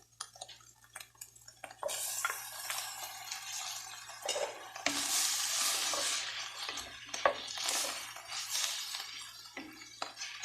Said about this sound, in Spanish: Ahora vamos a agregar el jitomate.